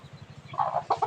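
A chicken clucks close by in a farmyard setting: a quick run of soft, rhythmic low clucks followed by a few sharper, louder calls, with no talking.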